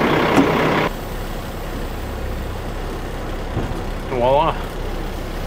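A truck pulling away after uncoupling a dump trailer, with a low engine rumble that builds and a brief whine near the end; a voice speaks briefly at the start.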